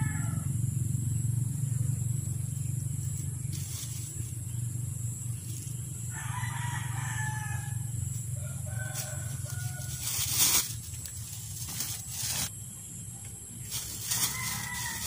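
Chickens cluck in short, scattered bursts over a steady low background hum, fairly close by.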